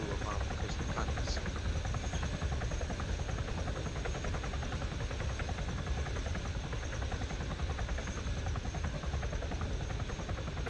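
Helicopter engines in the video game ArmA 3 roar continuously and loudly throughout, a dense steady rotor and turbine drone with no breaks and no talk audible above it.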